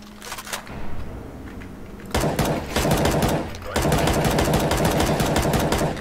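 Rapid bursts of gunfire from the game CS:GO, with a few early single shots followed by two long, loud sustained volleys, close and dense.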